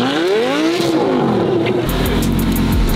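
A supercharged McLaren 720 GTR revs hard from inside the car, its engine pitch climbing and sweeping. Loud, close mechanical roar and whine throughout, with no one talking.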